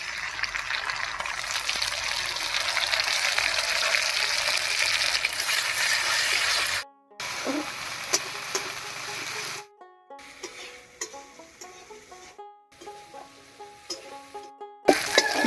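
Ginger-garlic, cumin and dry chili paste hits frying onions in a pan with a loud hiss that sizzles for several seconds, then quiets into intermittent crackling broken by short gaps of silence.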